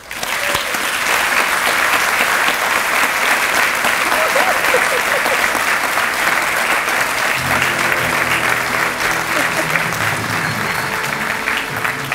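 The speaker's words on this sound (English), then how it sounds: "Let's have an elevated round of applause for the 2017 Spirit of the Shore Award winner, Salisbury University." Sustained audience applause fills an awards ceremony hall for a 2017 Spirit of the Shore Award winner at an annual meeting, dense and steady clapping lasting throughout without a break.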